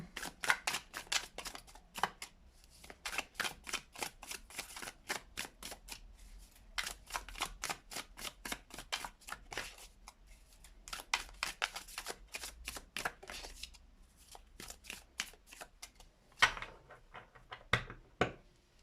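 Tarot cards being shuffled by hand, heard as long runs of rapid crisp riffling clicks in repeated bursts with short pauses between, close and fairly quiet, with no talking.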